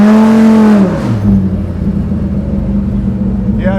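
A car engine with an aggressive cam revs hard under partial throttle, a loud rising then falling roar that settles into a lumpy, rumbling idle close by.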